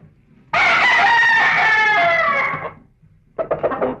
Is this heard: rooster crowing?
yes